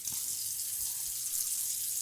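Cold water runs steadily from a bathroom tap during a wet shave, a continuous hissing splash filling the whole clip at moderate loudness with no voices.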